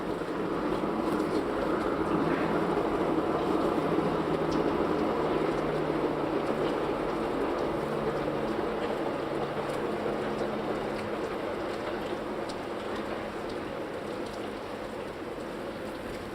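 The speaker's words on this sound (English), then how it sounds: "There seems to be a lot of trains today." Trains pass at a distance, making a steady, continuous rumble and wash of noise that fades slightly over about sixteen seconds, with no talking on top.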